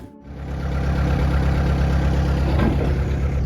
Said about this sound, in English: that forklift is going to come all the way up here